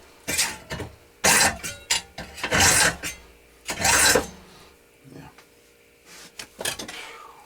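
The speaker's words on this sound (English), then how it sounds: "let me saw this off, finish sawing this off right here." Several rough rasping strokes of a hand saw, in uneven bursts with short pauses between, close by and fairly loud.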